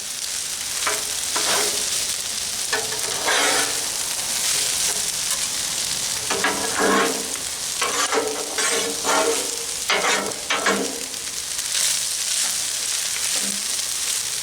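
Beef stir fry sizzles on a Blackstone griddle as homemade sauce is mixed in, with continuous loud frying hiss broken by repeated scraping and stirring strokes of a spatula on the metal surface.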